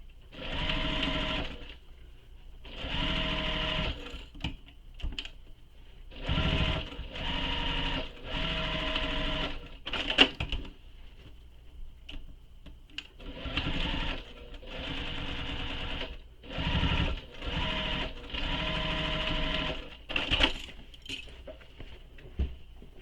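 Bursts of rapid sewing machine stitching run through a shoulder bag seam, starting and stopping in repeated runs of a few seconds each with short quiet gaps, close and clear without talk.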